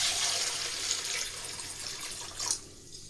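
Masoor lentils are rubbed and washed by hand in a bowl of water, a steady splashing and swishing that stays fairly close, then quiets near the end.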